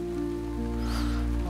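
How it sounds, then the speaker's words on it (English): Rain drips tapping metallically on a kitchen window, a steady dense patter close by with no voices. "a metallic tap of drips hitting the kitchen window"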